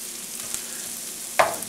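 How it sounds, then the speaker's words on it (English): Finely minced onions sweat in a pan for meatloaf hash with a steady soft sizzle, broken by a brief clink of a utensil near the end. "you want to go ahead and sweat the onions before you stick the egg in"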